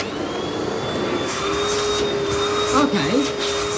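A Russell Hobbs Athena Pet swivel upright vacuum cleaner runs at a steady, loud whine with a constant motor hum, its pitch wavering briefly near the end as it is moved about.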